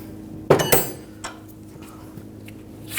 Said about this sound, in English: Tap it in just with a rubber mallet and put the nut on